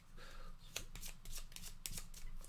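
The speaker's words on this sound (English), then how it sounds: "And now shuffle the silver deck." A silver deck of cards from the board game Coin & Crown is shuffled close by, a quick run of riffling bursts with sharp snaps as the cards bridge together, fairly quiet and without speech.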